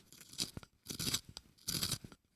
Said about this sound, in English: I am going to sharpen this pencil for you live